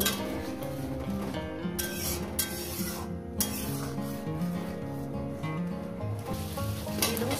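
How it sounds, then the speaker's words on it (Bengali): Ground spice paste loosened with water sizzles and is stirred in a pan, a soft continuous crackle broken by scraping strokes and faint utensil scrapes. "মশলা বাটি দেওয়া জলটা দিয়ে একটু কষিয়ে নেবো"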